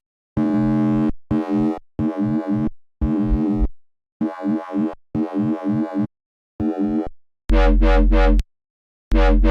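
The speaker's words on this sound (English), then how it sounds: "Sounds like it is doing high pass stuff into distortion, but then it has a sub oscillator too." A gritty, distorted synth plays a series of short, punchy notes with a deep sub-bass underneath, separated by brief silences.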